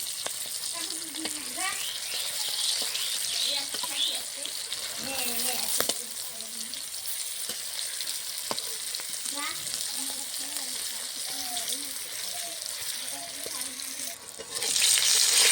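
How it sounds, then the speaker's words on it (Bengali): Pointed gourd (potol) slices frying in a pan, a soft continuous sizzle with occasional stirring scrapes. A voice speaks quietly in the background. "পটল ভাজা এক সাইডে হয়ে গেছে, আমি উঠিয়ে দিচ্ছি।"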